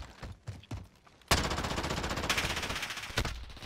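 Sustained automatic gunfire in Modern Warfare, a loud, rapid rattling burst starting abruptly and continuing for over two seconds, close to the listener, after a quieter stretch of game noise.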